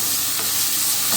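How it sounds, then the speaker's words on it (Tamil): Diced carrots and potatoes sauté in hot oil in a pan and are stirred, giving a dense, close, steady sizzle with faint scraping, and no voices. "இந்த கேரட்டு உருளைக்கிழங்கும் கொஞ்சம் வதங்கட்டும்."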